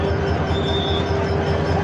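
Loud, steady rumble of a train idling at a crowded platform, with a faint metallic squeal rising briefly above the continuous drone.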